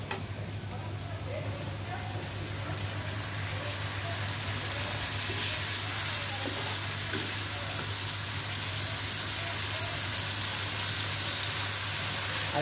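Spice paste and tomatoes sautéing in oil for an egg and potato curry, a continuous soft hiss of frying throughout with a few faint stirring clicks and no speech.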